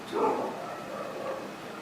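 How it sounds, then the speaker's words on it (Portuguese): A female dog barking somewhere off to the side, one brief bark-like yelp followed by fainter whining yips over room noise. "Tinha que começar a latir uma cadela bem nesse momento."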